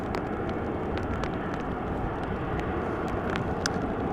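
A KLM Embraer 190 airliner taxis at Amsterdam Schiphol Airport, giving off a steady, dense engine rumble with a few faint clicks over it.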